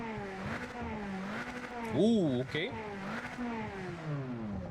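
A race car engine revs and shifts in a racing video game, with rising and falling harmonic whine and a sharp burst of acceleration midway, heard under a person talking throughout.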